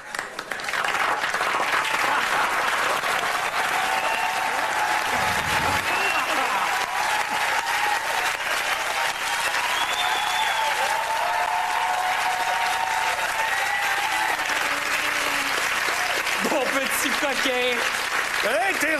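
Sustained applause from a television studio audience, loud and dense throughout, with a brief low thump partway and some whoops near the end.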